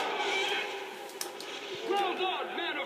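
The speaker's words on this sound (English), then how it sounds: "Yes, I am waiting on my horse." A horse whinnies in the Lord of the Rings Conquest video game, a loud rising and falling neigh near the end amid game ambience, preceded by brief hoofbeat-like clatter and a voice speaking.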